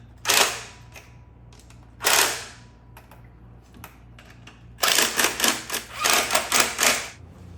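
Ratcheting and clicking as bolts are tightened down on the throttle body of a Dodge Challenger, coming in short close bursts with a longer rapid run of clicks toward the end.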